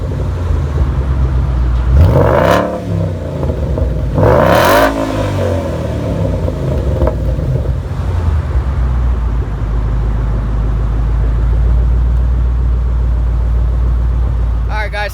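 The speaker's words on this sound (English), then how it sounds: "I'm gonna let you guys hear the exhaust a little bit" A 2014 Mustang GT's V8 exhaust rumbles loudly and close behind the car, revving up twice to around 6,000 RPM in quick swells before settling back into a deep steady idle.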